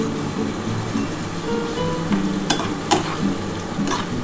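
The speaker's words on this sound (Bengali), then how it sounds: "এর মধ্যে আমি টমেটোটা দিয়ে দিলাম" Tomatoes frying in a pan of pomfret curry, a steady soft sizzle with a few sharp clicks of stirring, close and alone with no talk.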